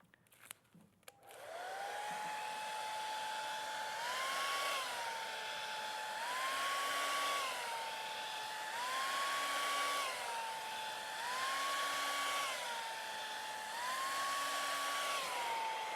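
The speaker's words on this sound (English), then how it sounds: "A trusty hairdryer." A hair dryer blows steadily at close range, its whine rising and dipping in a regular wavering pattern after a couple of brief clicks at the start.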